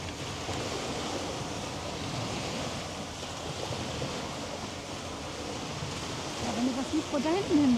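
Water washing against the quayside at Hamburg harbour, a steady broadband wash with wind across the microphone, bird calls near the end and a brief clear whistle-like sound in the final second.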